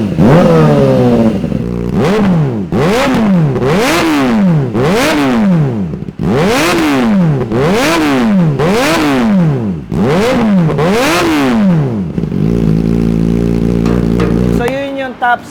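Kawasaki ZX4RR sports bike with titanium exhaust, loud close revving in about seven rising-and-falling throttle blips, high-pitched engine howl each time, settling to a rough idle at the end.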